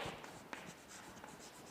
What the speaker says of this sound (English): in Rajendra's account, what we should write?